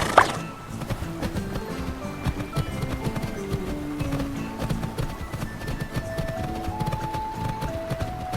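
Horse hooves clip-clopping at a steady walking rhythm during a ride in the video game Horse Club 2, moderately close, with soft game music underneath and no talking.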